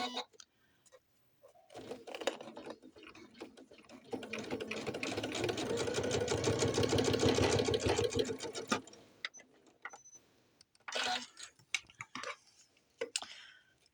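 A Janome sewing machine stitching with red thread runs in a steady, fast rhythmic whir for several seconds, starting and stopping, with quiet handling noises and short bursts before and after.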